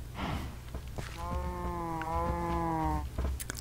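A cow moos in the Minecraft Conquest Reforged modpack, one long, drawn-out, tonal low call near the listener, set against a quiet game background with faint soft clicks.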